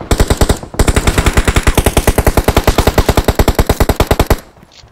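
Rapid automatic gunfire in PUBG Mobile, a loud, evenly spaced burst of roughly forty shots with a brief pause near the start, then stopping abruptly with a fading tail.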